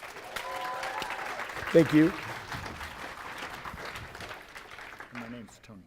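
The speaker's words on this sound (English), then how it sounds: "Everyone give Tom a huge round of applause" An audience at a talk applauds, a broad wash of clapping that swells briefly and then fades, with a speaker's voice carrying over it throughout.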